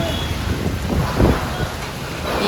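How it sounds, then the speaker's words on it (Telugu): Strong wind roars steadily outside, a dense low rumble buffeting the microphone, swelling into a louder gust midway before settling back. "గాలి అయితే స్టార్ట్ అయింది చూడండి ఘోరంగా"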